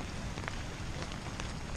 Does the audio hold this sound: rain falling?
yes